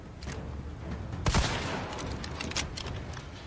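Video game weapons fire in a quick volley of sharp shots, one heavy blast near the middle followed by scattered lighter reports, moderately loud with no voices.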